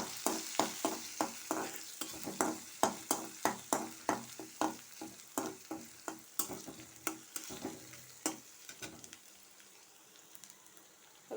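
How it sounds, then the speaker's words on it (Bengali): Crushed garlic and two dried red chilies fry in hot oil in a kadai, with a steady sizzle broken by a rapid run of sharp stirring scrapes and clatters. The sizzle thins to a quieter hiss near the end. "রসুনটা একটু ভাজা ভাজা করে নেব।"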